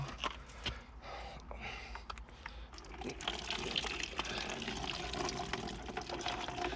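Water is poured out in a steady, moderately faint gush that starts about halfway through, after some quieter handling noise.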